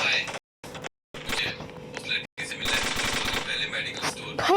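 Rapid bursts of toy MP5 submachine gun fire in the Free Fire video game, crackling automatic volleys broken by brief silent gaps, loud and up front with a voice speaking over them.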